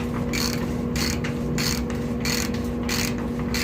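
A ratchet turning a bicycle bottom bracket tool, clicking in quick, even bursts of pawl ticks with short pauses between strokes, close and loud over a steady background hum.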